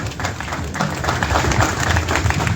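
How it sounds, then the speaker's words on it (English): Steady, dense applause from an audience at a Liberia National Police and LDEA graduation ceremony, filling the full stretch at an even level, with a few voices mixed into the crowd noise. "please give him a rousing hand of applause"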